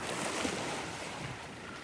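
Sea waves break and wash near a shore seine net on the Jaffna coast, a dense, continuous roar with wind buffeting the microphone, loud and close for a brief moment.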